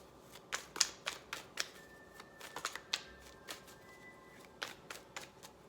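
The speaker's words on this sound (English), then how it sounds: "let me go ahead and start mixing up the cards for your second tarot reading" Tarot cards being shuffled and dealt, a quiet close run of crisp snapping flicks and soft slaps at irregular intervals.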